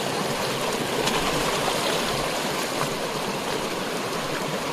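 River water flowing at a crossing point, a steady broadband rush of stream current that stays constant throughout, close and fairly loud with no voices.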